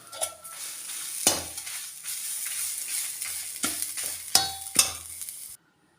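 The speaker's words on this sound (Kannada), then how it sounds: "ತೆಂಗಿನಕಾಯಿ ಹಾಕಿ, ತೆಂಗಿನಕಾಯಿ ಸ್ವಲ್ಪ ಉರಿಬೇಕು." Grated coconut roasting in a dry pan, with a steady faint sizzle and sharp, repeated scrapes and taps of a spoon stirring against the metal, close up and with no voices, before cutting to silence.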